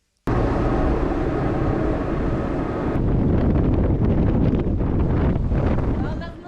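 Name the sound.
wind gusts on sailboat offshore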